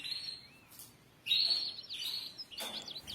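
Goldfinches perched around a plant pot inside a cage give faint, bright chirps and short twittering calls in scattered bursts while feeding, with quiet pauses between.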